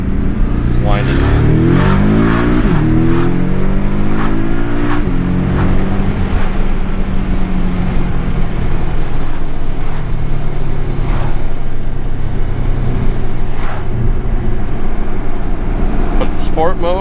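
A 2017 Porsche 718 Boxster S PDK tuned by MTM, engine droning loudly while driving in sport mode, with rising revs and quick gear shifts, heavy wind rush throughout and someone talking over it.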